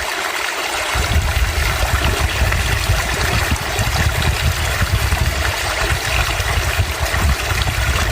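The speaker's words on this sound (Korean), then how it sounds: "시원한 계곡 물소리 들으면서 여기 물가에 앉아서 쉬고 있습니다." A mountain valley stream flows and splashes in a constant, full rush of water, close and steady throughout with no voices.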